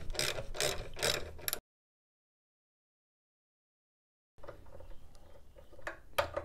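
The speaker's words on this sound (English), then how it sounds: "To get the battery out, we're gonna need a 10 millimeter socket. So I'm gonna start with the retaining bracket." A ratchet turning a 10 mm socket to remove the battery retaining bracket on a 2008 Nissan Xterra: rapid clicking bursts, close and crisp, broken by a long gap of silence before the clicking resumes.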